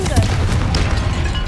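Confringo blasting spell from a Harry Potter video game: a loud, dense explosive boom with crackling debris, sustained through the short moment and blended with a voice in the mix.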